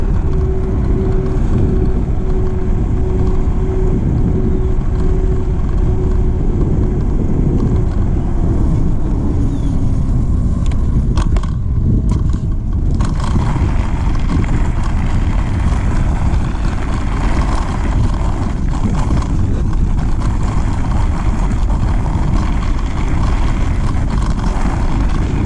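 An Evercross H5 electric bike rides a trail, its steady motor drone buried in constant loud wind rush and rumble, with a falling whine partway through.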